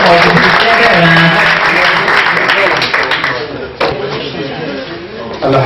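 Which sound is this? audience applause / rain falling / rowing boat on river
audience applause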